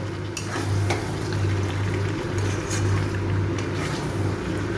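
Chicken curry is stirred steadily in a pan after a pinch of sugar is added, a continuous scraping and gentle sizzle with a constant low hum underneath and no talk.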